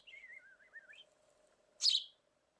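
A young pet sparrow in a small nest gives thin wavering chirps, then one short sharp louder call, close and quiet over a faint low hum.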